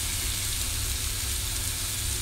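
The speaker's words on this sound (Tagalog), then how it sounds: "Nagprito ako ng itlog." An egg frying in a pan gives a steady, close sizzle that holds level and unbroken from start to finish, with no voices over it.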